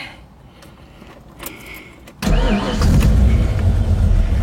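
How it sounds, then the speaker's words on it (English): An older car with an electronic choke and 44,098 miles cranks briefly and fires on the first try, catching into a loud, steady idle close by after a few faint clicks. "Car runs real good, fires up first time, every time."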